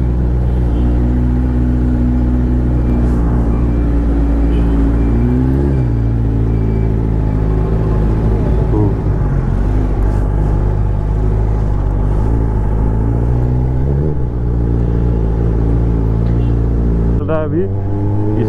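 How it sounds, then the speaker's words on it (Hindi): Motorbike ridden slowly on a road whose tire has a fault, giving a steady low engine rumble close by throughout, with a couple of small throttle swells and a brief cut near the end. "इसीलिए गाड़ी नहीं भगा रहा हूँ क्योंकि नहीं तो स्लिप मारेगा"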